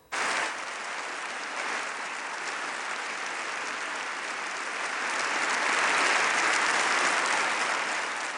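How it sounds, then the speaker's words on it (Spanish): A long, sustained ovation fills a hall at an award ceremony, dense applause holding steady and swelling slightly toward the end, with no voices over it. "En medio de un extenso aplauso"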